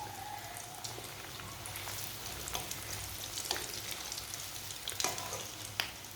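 Bread kachori fry in very hot oil, a steady crackling sizzle with scattered sharper pops and spits, close and fairly quiet throughout, no voices.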